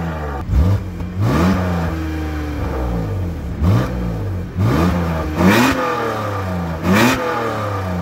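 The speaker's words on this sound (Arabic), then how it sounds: "الاربع شكمانات اللي ورا دول كلهم شغالين، وهسمعكم الصوت دلوقتي" A BMW Z4's engine revs repeatedly through four rear exhaust pipes, rising in short sharp bursts with throaty rasp between steadier idle-like stretches, loud and close with no talk.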